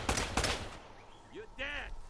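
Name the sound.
gunfire from enemies in the video game Uncharted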